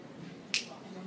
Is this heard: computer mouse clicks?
no